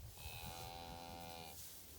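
A black first-calf heifer lets out one long, drawn-out low from among a herd of cow-calf pairs, heard against steady outdoor background noise and a busy herd.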